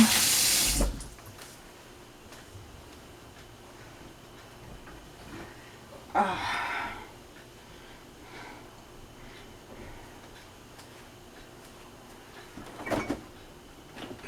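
Hands are washed under a running kitchen tap to rinse off glue, with short bursts of splashing water near the start and again around the middle and end, separated by quiet stretches.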